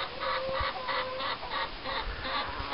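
Rooster on a small farm with homemade chicken coops, clucking in a repeated, mid-distance rhythm over steady outdoor background noise, with no one talking.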